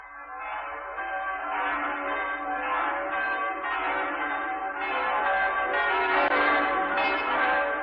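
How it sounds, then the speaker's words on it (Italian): Church bells of St. Peter's in Rome ringing at a 1970 canonization ceremony, a continuous clanging peal of overlapping strokes, moderately loud and steady throughout with no voices. "mentre le campane di San Pietro davano l'annuncio a tutta la cristianità"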